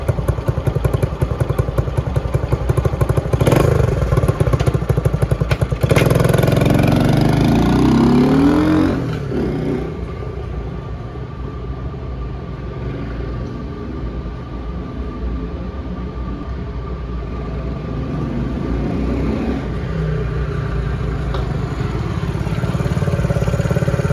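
A Honda CT90 small motorcycle in freezing cold weather, its engine loud and close with a steady rough drone, a louder revving burst in the middle, then settling into a sustained ride hum.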